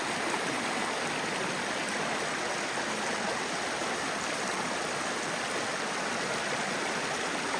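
A mountain creek rushing over rocks nearby in Nantahala National Forest, North Carolina, a steady, dense hiss of flowing water with no pauses and no voices.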